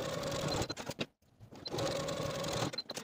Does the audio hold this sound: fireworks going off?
no